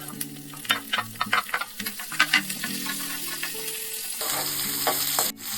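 Chopped onion and cumin seeds frying in a hot pan, a steady sizzle broken by repeated scraping and stirring strokes, close and moderately loud, with a brighter hiss toward the end and no voices.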